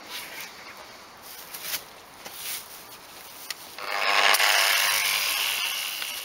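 Power sander stripping paint from a Stratocaster guitar body down to the wood, a steady broadband whir that swells louder and denser in the second half, with faint scraping and clicks earlier.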